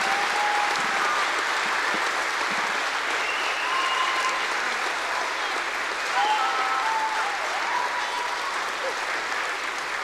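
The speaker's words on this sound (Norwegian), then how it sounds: "Det synes jeg de kan få applaus for." A concert audience claps steadily for a girls' choir, loud sustained applause filling the hall throughout with a few faint voices mixed in.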